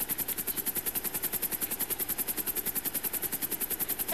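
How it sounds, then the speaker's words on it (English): A helicopter in GTA V Online thrums with a fast, steady rotor chop over a continuous engine whine, close and sustained without a break. "I can hear the helicopter."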